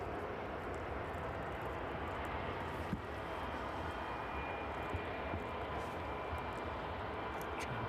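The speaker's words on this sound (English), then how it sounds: "That DHL 757 just passing in front of us now." A DHL Boeing 757 passes at East Midlands Airport in the evening, its engine noise a faint, steady broadband roar heard from a distance.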